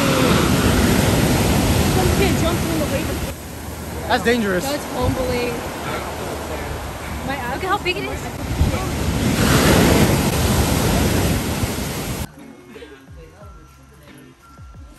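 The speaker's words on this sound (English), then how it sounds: "There's a waterfall." A Hawaiian waterfall roars as a broad, steady rush of water, loud and close, mixed with wind buffeting the microphone; people talk briefly over it before the sound cuts away near the end.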